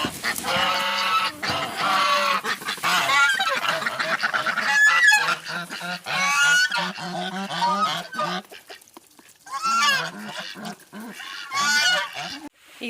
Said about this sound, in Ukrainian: І відкриваємо гуси та качки.